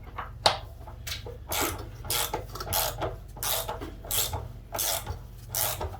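A ratchet socket wrench loosens a 12 mm bolt on a Suzuki TF185 motorbike: close, rasping clicks in a steady run of strokes about every half second, loud and without talk.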